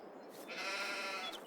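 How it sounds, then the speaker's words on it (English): Sheep in Farming Simulator 22 give a short, soft bleat from a pen near a farm shed, one drawn-out call standing alone at low level. "sheep in there as well"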